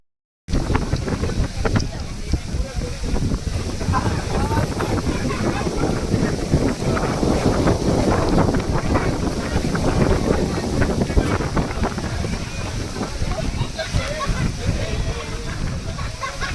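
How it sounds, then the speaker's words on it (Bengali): Strong stormy wind sweeps across the bank of the Ganges, a constant loud roar and low rumble buffeting the microphone for the whole stretch. "প্রচণ্ড ঝড় হাওয়া দিচ্ছে।"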